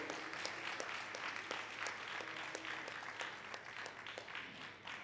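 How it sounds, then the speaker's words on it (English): An audience at an award ceremony gives steady, moderate applause during a procession, continuous scattered clapping heard from a distance. "Please give applause,"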